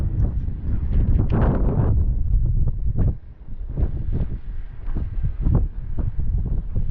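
Strong gusts buffet the microphone at Flamanville beach and port, a loud, rumbling low roar that swells and dips in uneven pulses throughout.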